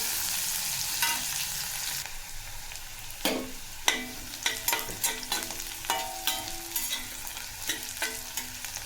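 Finely chopped onion fries in oil in a home kitchen pan, a soft steady sizzle broken by repeated sharp clinks and scrapes of a spoon stirring, close and without talk.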